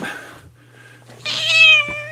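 A silver cat meows once, a clear rising-and-falling cry near the microphone, with a low steady hum running underneath and a quieter breathy stretch before it.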